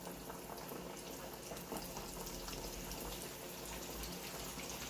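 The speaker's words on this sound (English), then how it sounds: "Fry it up. Don't overcrowd your pan." Fish frying in a pan of hot oil, giving a steady, even sizzle and bubbling throughout at low volume, with no talking.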